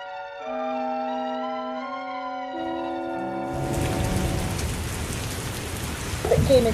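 In a radio play, held musical notes fade into a steady hiss of falling rain that grows louder and fills the second half, with no one speaking.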